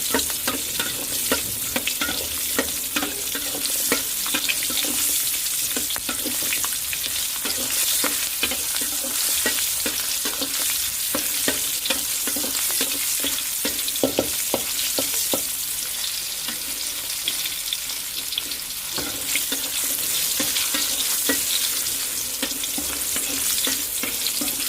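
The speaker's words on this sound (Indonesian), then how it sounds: "Setelah minyaknya panas, kita goreng dulu yang bawang merahnya." Whole, unsliced shallots fry and sizzle in hot oil for a chilli sambal, a steady dense crackle with occasional stirring scrapes, close and continuous with no talking.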